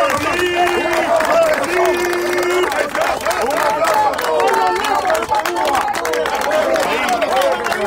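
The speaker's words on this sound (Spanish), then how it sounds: "un aplauso a Carlos Lazo" A festive crowd at a caravan celebration for Cuban families applauds and cheers for Carlos Lazo, with steady loud clapping and shouts under overlapping voices and bits of music throughout.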